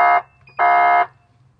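Two loud blasts from an emergency vehicle air horn on an N Star lighting and siren control setup, a short burst followed by a longer one with a pause between them, heard close and alone.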